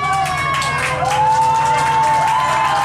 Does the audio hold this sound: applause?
yes